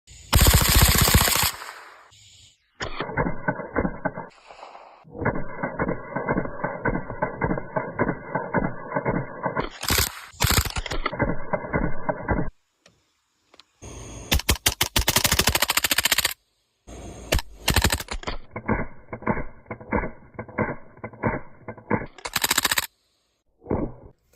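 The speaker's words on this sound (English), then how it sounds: "they're working on a Ruger 1022 force reset" Rapid bursts of gunfire from a Ruger 10/22 rifle fitted with a forced reset trigger, loud and close, firing in several long, fast strings separated by short pauses.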